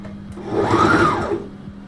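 A sewing machine runs a quick stitch down the middle of Velcro on a homemade passport case, a steady mechanical whir that swells in the middle of the run and eases off, close by with no talking.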